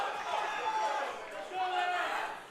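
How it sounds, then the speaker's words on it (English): A crowd in a powerlifting hall at a national championship meet keeps up a sustained murmur and cheering behind a close commentator's voice, swelling and easing over a few seconds. "A lot of crowd noise here for Lance."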